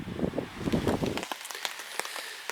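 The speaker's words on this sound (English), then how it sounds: "It's raining again, Shane." Dense patter of rain drumming on a surface nearby, shifting to lighter, scattered drops striking close at hand.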